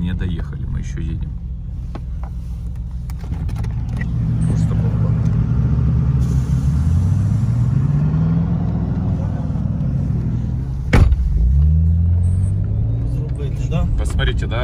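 A Nissan Patrol 4.8 drives over a rough dirt road, a low engine rumble with shifting revs and a clunk near the end, heard from inside under ongoing talk.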